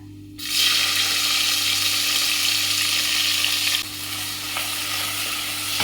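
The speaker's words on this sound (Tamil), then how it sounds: "கிராம்பு, ஜாதிபத்திரி, பிரியாணி இலை, சோம்பு, பெரிய வெங்காயம் போட்டுக்கலாங்க" Whole cloves, mace, bay leaf, fennel and large onions hitting hot oil in a pan, a loud sudden sizzle that holds steady, close and alone.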